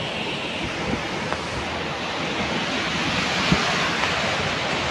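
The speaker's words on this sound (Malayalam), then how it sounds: "അതിശക്തമായ തിരമാലകളാണ് അതിശക്തമായ തിരമാലകൾ" Strong surf crashing on rocks on a seashore roars continuously, a dense rushing wash of waves with occasional heavier bursts and some wind buffeting the microphone.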